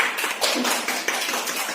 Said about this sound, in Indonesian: Tepuk tangan untuk Al-Alim